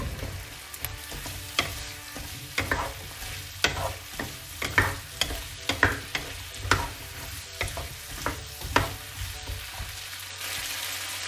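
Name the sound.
stir-frying potato, carrot and onion in butter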